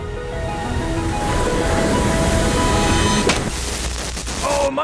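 Ocean waves break at close range in a loud, continuous wash of surf, with a sharper crash near the end as a wave's crest collapses.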